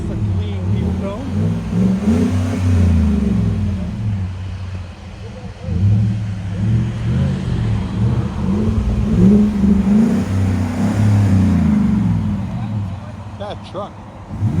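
Deep exhaust rumble from a 2016 GMC Sierra Denali 6.2L V8 fitted with a Borla Pro-XS muffler, rising in several rev swells with brief dips between, steady and fairly close amid outdoor background noise.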